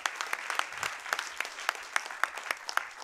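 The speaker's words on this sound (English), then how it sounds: "Yep, you can clap that up" A small audience at a town council meeting claps for a sophomore champion bowler, steady and fairly close, continuing alone for a few seconds.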